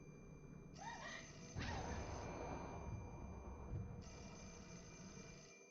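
A black phone in a dark area of a video game rings with a steady, bright electronic trill that starts, pauses and starts again over a low background rumble, with no talking.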